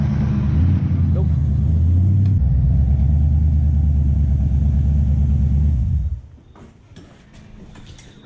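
Twin-turbo Toyota 1UZ-FE V8 in an EX Lancer drives with a deep, steady rumble and low drone, then eases off and fades to a quieter idle-like hum near the end.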